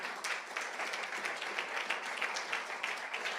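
Congregation at a church sermon applauding and cheering, a faint, steady patter of many hands clapping with scattered voices for a few seconds.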